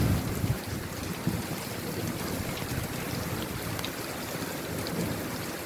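Steady rain pours down outdoors in a downpour, a dense continuous hiss with low rumbling underneath, loud and unbroken with no voices.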